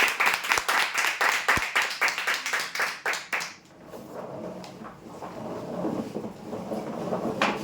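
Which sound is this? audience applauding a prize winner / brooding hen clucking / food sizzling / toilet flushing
audience applauding a prize winner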